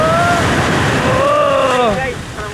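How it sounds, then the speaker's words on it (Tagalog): Strong ocean surf at La Paz Beach in San Narciso, Zambales, a loud continuous roar of waves and wind buffeting the microphone, with voices calling out over it. "Ang lakas ng alon!"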